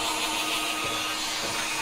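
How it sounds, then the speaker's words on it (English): Steady broadband whooshing of an Arrojo Ionic blow dryer drying dense hair close by, a continuous airy roar with no talking. "This is my new blow dryer"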